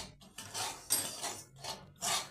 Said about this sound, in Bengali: একেবারে গরম কড়াইয়ে আমি সুজিগুলোকে নেড়ে চেড়ে